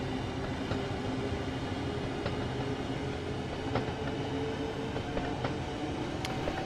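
A train in Train Sim World 2 on the West Coast Main Line, powered in notch 4 and gathering speed, gives a steady rumbling rolling drone with light rhythmic clicks and rattles over the track, continuous and fairly loud, no talking.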